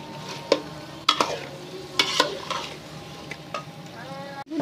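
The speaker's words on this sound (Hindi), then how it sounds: "अब अम्मी इसमें शामिल करने लगी है दही, और दही के साथ भी भूनेंगी यकीनन कुछ देर" Chicken being fried with yogurt in a kadhai, with a steady sizzle and repeated sharp scrapes and clanks of a spoon stirring against the metal pan, close and fairly loud.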